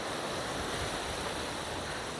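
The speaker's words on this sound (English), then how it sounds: "So as you can see, it is very windy" Steady broadband wind rushing across an outdoor microphone, constant and fairly loud with no voices.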